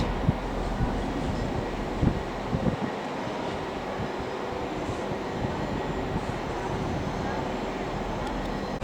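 An LNER class 800 train, unit 800 106, rolls into Leeds station with a steady broad rumble of engine and wheels under constant platform noise, with a few brief knocks near the start and a quiet voice in the background.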